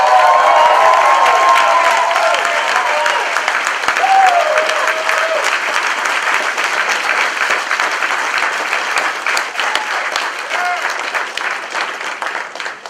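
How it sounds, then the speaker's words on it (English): A seminar audience bursts into loud, sustained applause with some cheering and whoops at first, the clapping staying dense and close before gradually thinning and fading toward the end. "Give yourselves a round of applause."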